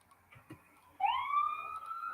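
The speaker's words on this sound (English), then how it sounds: "Oh boy, here goes an ambulance." An ambulance siren passing along a street, starting abruptly after faint knocks and sounding a rising, steady wail at moderate distance for the remaining second.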